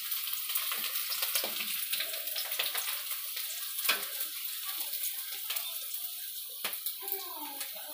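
Potatoes frying in hot oil for a Bihari-style jackfruit curry, a steady close sizzle with crackling bursts and occasional stirring scrapes.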